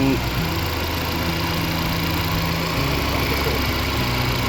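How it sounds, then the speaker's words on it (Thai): Four-cylinder petrol engine of a Mercedes-Benz GLA W156 running steadily at idle, with a faint repetitive clacking from the front of the engine heard up close over a constant low hum. "เครื่องยนต์สองเจ็ดศูนย์นะครับ เบนซินสี่สูบ เนี่ย มีเสียงด้วยฮะแก๊กแก๊กแก๊กแก๊กอยู่หน้าเครื่องเนี่ย"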